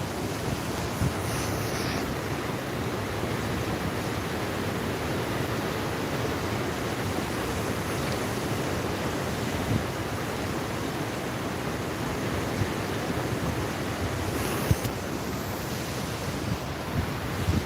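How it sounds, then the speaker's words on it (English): A stream runs at falls on a fall walk, a steady, full rushing wash of water that fills the scene without pause and without voices. "you can just listen to the stream, you know what I mean? Like, listen to the running water."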